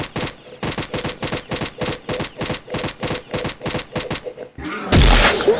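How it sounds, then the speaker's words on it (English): Rapid gunfire in a Roblox shooting game, a regular run of about twenty sharp shots at an even rhythm, then a short gap and a louder, denser burst at the end. "Just keep on shooting."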